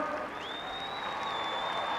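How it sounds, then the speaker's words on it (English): A large crowd at the Ferrari World Finals applauds in a steady wash of clapping with a faint whistle on top, heard at a middle distance. "E questo è anche l'applauso che mandiamo noi a voi."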